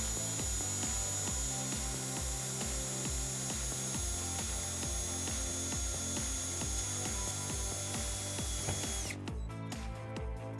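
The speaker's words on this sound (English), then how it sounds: "we're just gonna put a screw right in next to it." Power drill drives a screw into a vehicle body to ground a trailer wiring harness on a 2010 Hyundai Sonata, a loud steady whirring with rhythmic ratcheting pulses close up, stopping near the end with a few clicks.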